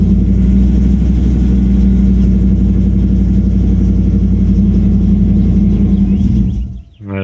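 A 2002 Dodge Durango engine bogging down as the gas pedal is pressed, a loud steady low rumbling drone that holds throughout, then drops away and falters briefly near the end.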